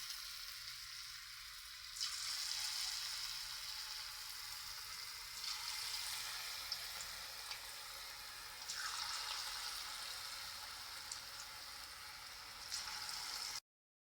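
Small rice flour pakoras fry in hot oil, a continuous close crackling sizzle that swells in a few waves as pieces are added or moved, with no talking.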